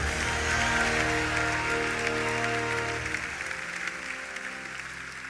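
A church congregation applauds in acclamation of Jesus, a broad sustained wash of clapping that fills the room and then gradually thins and fades toward the end.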